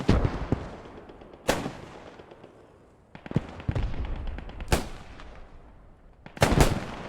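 Rifle shots ring out in a competitive multiplayer shooter match: several sharp, loud cracks spaced a second or two apart, with a rapid double shot near the end and quieter game noise between.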